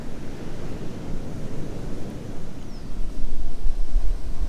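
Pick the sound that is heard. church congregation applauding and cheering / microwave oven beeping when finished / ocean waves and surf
ocean waves and surf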